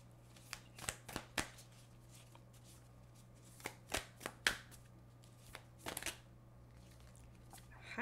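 Oracle cards being shuffled by hand in a quiet room, a series of crisp riffling and tapping bursts in irregular clusters, close and moderately soft, with no talk.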